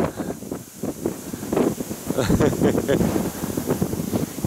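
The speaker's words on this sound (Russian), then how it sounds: "Ветер сдувает." Wind gusts across a lake on a boat trip for autumn duck hunting, buffeting the microphone in loud uneven rushes, while someone speaks over it.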